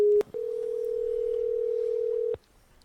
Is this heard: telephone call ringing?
yes